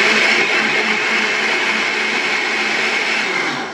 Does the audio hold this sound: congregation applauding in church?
no